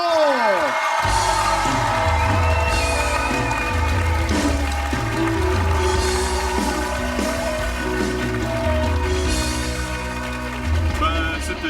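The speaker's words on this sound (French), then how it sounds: "J'aimerais un tonnerre d'applaudissements pour la famille Alisson." A TV studio audience on a family show bursts into sustained loud applause and cheering with whoops, a dense roar of clapping and crowd noise that continues throughout with voices mixed in.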